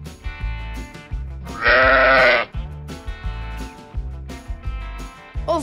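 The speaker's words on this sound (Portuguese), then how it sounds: "Ovelha." A single sheep gives one loud, drawn-out bleat up close, set against a rhythmic background music track.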